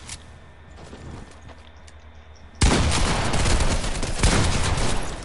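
Shotgun blasts in a multiplayer video game erupt suddenly after a quiet stretch, a loud, dense run of overlapping shots and impacts that continues to the end.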